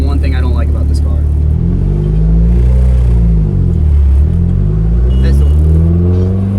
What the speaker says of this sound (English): This car rattles so much.